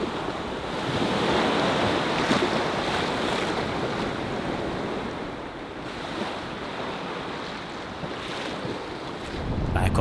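Waves wash onto a beach in Corsica, making a continuous surging rush that swells and eases, with wind buffeting the microphone throughout and no voices.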